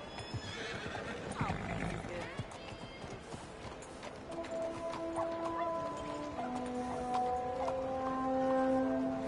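A horse in the Red Dead Redemption 2 video game clip-clops along steadily, opening with a loud whinny, while a voice speaks briefly and faint music plays.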